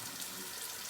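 Tap water runs steadily into a bathroom sink while the face is re-wet after a shower, before wet shaving with a Schick O Clone injector razor; a close, continuous faucet hiss fills the full second with no talking.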